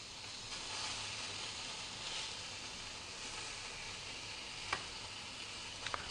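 A filet mignon steak sears in a hot frying pan with a steady, close sizzling hiss throughout, broken by a few faint clicks and taps near the end.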